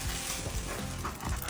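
A dog in a home setting makes soft, excited whimpers and yips, close by and continuous over low background noise, with no talk.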